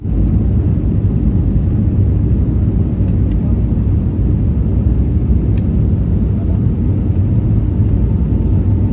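Steady, loud broadband roar of an airliner cabin in flight after departing Adelaide, a continuous low rumble that holds evenly throughout with no talk.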